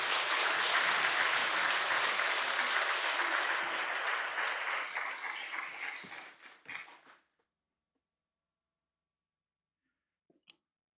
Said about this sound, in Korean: 박수로 한번 우리 목사님 찾아뵙도록 하겠습니다.